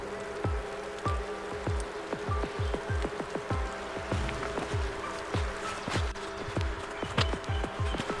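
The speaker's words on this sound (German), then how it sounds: "War ja klar, dass es heute wieder regnet." Rain falling in a forest during a hike in the Schorfheide near Berlin, steady patter with repeated irregular drops and thuds against a constant background hum, fairly soft and with no talking.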